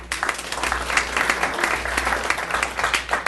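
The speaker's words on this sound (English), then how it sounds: "if you can hold your applause to the very end" Audience at a regular city commission meeting claps for a few seconds, a dense patter of applause from a room of people.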